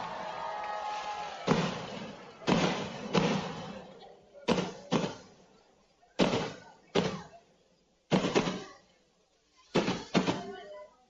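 Fireworks burst in a rapid series of loud, sharp booms at an evening state foundation day celebration, with about a dozen separate blasts spread across the sky and crowd ambience between them.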